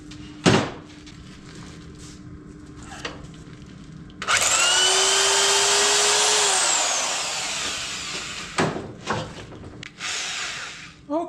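A power drill spins up and runs for about two seconds with a high whine, bracketed by sharp knocks and clunks before and after.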